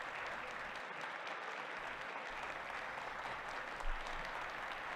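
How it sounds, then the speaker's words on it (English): Standing ovation at the Capitol, heard as a dense, steady wash of clapping from a large crowd that stays even and fairly distant throughout. "Is he getting a standing ovation?"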